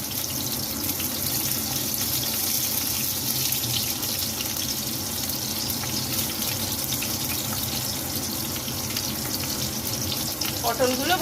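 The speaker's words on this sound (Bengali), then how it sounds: "পটলগুলো ভাজতে দিয়ে দেওয়া হলো" Pointed gourd (potol) fries in hot oil in a pan, a steady, dense sizzle that holds evenly throughout at moderate loudness, with a brief voice at the very end.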